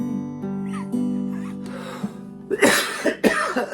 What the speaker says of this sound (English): I was holding off a cough